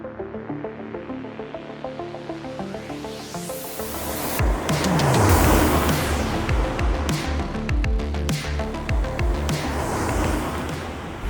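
A roughly 30-year-old Mercedes-Benz W124 E-Class drives through Mumbai traffic. Steady engine and road noise build and stay loud throughout, with no talking.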